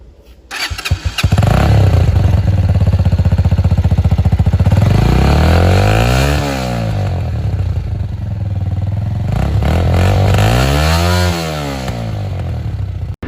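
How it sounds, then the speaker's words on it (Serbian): A Peda Pro XT 125cc air-cooled four-stroke motorcycle starts on the first try, its loud engine catching after a brief crank, then idling steadily with two rising-and-falling revs, close up. "Prvo vidimo da li će iz prve da upali."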